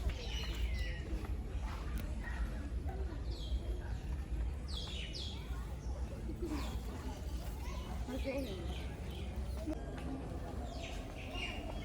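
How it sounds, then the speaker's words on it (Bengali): Birds of various species at a mini zoo chirp and tweet in scattered short calls, at mid distance within a dense, steady ambient background, with a voice talking throughout. "তাদের কিচিরমিচির শব্দ আর উড়াউড়ি পুরো পরিবেশটাকে আরও প্রাণবন্ত করে তোলে।"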